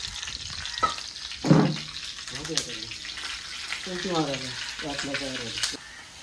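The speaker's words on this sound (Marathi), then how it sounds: "आता केलीचे पानावर टाकले फ्राय करत. तेल टाकले खाली ना पानवरती, त्याच्यावरती मासा." Fish fries in oil on a banana leaf with a soft steady sizzle, heard under a voice talking close by throughout.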